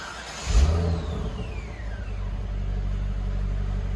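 A Chevy Corvette with a 5.7L V8 and factory exhaust gives a short blip followed by a steady low rumble at idle, recorded up close with a faint rising whine.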